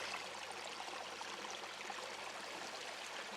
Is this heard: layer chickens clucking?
no